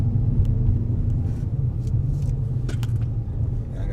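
Engine of a car with a manual gearbox cruising in third gear at about 1500 RPM and roughly 23 mph: a steady low rumble heard from inside the cabin, with faint ticks and road noise.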